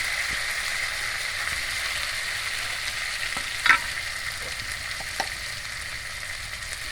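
Pointed gourd stirred and frying in hot oil in a pan, a constant close sizzle with a few soft spatula scrapes and one brief sharper clink partway through, no voices.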